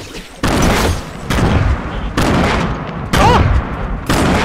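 Repeated bursts of Fortnite video game combat, grenade explosions mixed with gunfire, come in loud broadband blasts about every second, each a sharp boom with a rough tail, filling the whole stretch.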